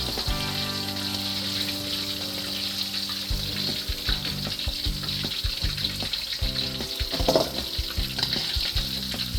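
Battered chicken for General Tso's chicken sizzles and crackles steadily as it deep-fries in hot oil, a dense bubbling hiss with occasional louder pops, close by and without voices.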